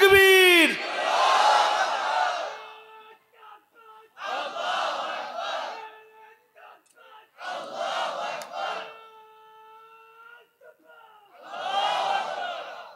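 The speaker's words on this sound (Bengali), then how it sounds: "একটু আওয়াজ করে কোন, জোরে একটু তাকবীর দেন তো" A crowd at a Bangladeshi Islamic sermon gathering loudly shouts the takbir chant in several strong, swelling bursts, each a massed roar of many voices, separated by short pauses, with a single voice leading in between.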